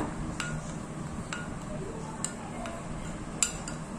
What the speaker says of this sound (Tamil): ரெண்டையுமே நல்லா மிக்ஸ் பண்ணி விட்டுக்கோங்க.